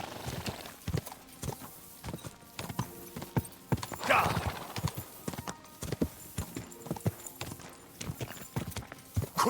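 In the Kingdom Come Deliverance 2 video game, a horse's hooves clop in an uneven rhythm, and a loud whinny sounds midway, close and clear, with faint talk in places.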